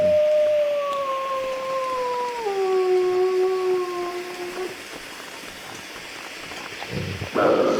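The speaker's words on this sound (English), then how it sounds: "Who's growling at me?" A creature in The Long Dark lets out a drawn-out, wavering growl-howl that glides lower over about four and a half seconds before cutting off, set against a steady patter like rain.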